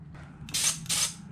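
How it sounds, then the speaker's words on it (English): A paint sprayer test-fired while coating unfinished cabinets: two short, loud hissing bursts of spray close by, separated by a brief pause, over quiet background. "We're going to spray some paint on these things"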